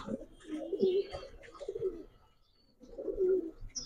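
Pigeons coo in low, throaty bursts at a pigeon farm keeping high flyer, racer and fancy breeds, two clear cooing phrases close by with brief chirps and a pause between.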